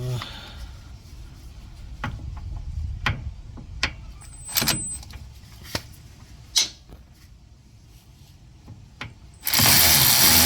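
A ratchet works loose a 12mm bolt on the steering yoke underneath a Holden Rodeo, giving scattered clicks and metallic knocks at close range, fairly quiet, ending in a sudden burst of broadband noise.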